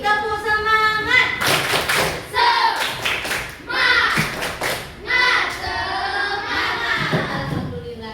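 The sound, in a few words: children doing a rhythmic spirit clap in class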